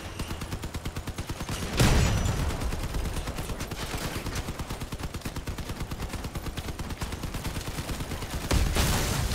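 Crossout machine gun in the weakest class, firing in long, rapid, steady bursts, loud and close, with a couple of heavier impacts mixed into the continuous rattle.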